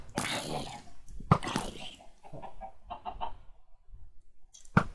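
Blocky chicken clucks in a Minecraft game, a few short bursts mixed with other game sound effects and hits, fairly loud and close, with no talking.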